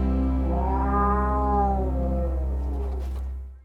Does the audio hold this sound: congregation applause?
no